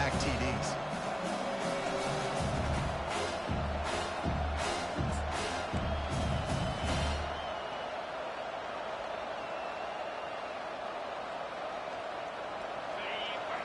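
A stadium crowd at an American football game roars in a dense, sustained wash of cheering and noise, louder and more broken up at first and then settling into a steady distant din.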